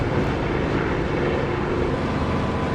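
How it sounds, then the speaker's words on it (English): A Spitfire's engine in DCS, using the Echo 19 sound mod, drones with the canopy open, giving a steady, loud, full-bodied roar with wind rush and no break for several seconds. "I'm using the Spitfire engine sound that's created by Echo 19, and it's so nice with the canopy open"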